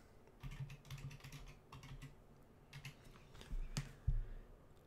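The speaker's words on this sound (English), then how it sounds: "I'm just going to type in anything right now just to get this going." Fingers type a username and password on a computer keyboard at a login screen, a steady run of soft close clicks with a few louder key presses near the end, over low room hum.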